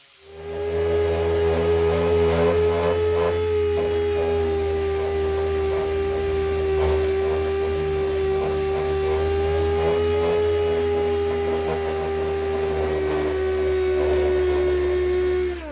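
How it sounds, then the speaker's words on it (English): An angle grinder runs continuously, grinding down the end cap of a Bushwacker fender flare for a third-generation Dodge Ram, a loud steady high whine with a rough grinding edge that holds for about fifteen seconds. "I'm going to use the grinder to grind this down to a rough size"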